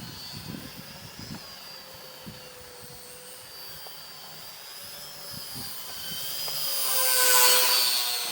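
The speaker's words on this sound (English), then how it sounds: "It's not too loud, nice quiet park flyer." A small WLToys F929 RC model airplane's electric motor whines steadily at a distance, then grows louder as it passes closer near the end.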